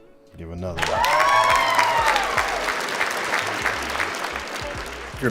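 Applause erupts after a few spoken words, a crowd clapping and cheering steadily at full volume with whoops mixed in, holding strong to the end with a voice briefly heard through it.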